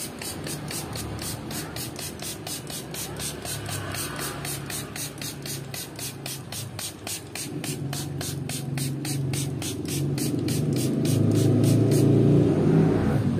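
Rapid rhythmic spritzing of diluted aircon cleaner onto a window-type air conditioner, a long series of evenly spaced hissy bursts from a hand pump sprayer, close and loud, with a rising whooshy rumble underneath toward the end.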